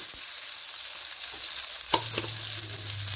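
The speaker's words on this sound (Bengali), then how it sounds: "তারপরে দেওয়া হচ্ছে টমেটো।" Tomatoes added to a pan with sliced green chilies for egg biryani, sizzling in a steady loud hiss with a sharp drop-in burst partway through, followed by a low hum, close, with no voices.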